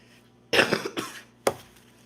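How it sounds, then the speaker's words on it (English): Several rough, harsh coughs from one person at home, a close burst of two or three coughs followed by a single short cough after a brief pause. "I still have this terrible cough."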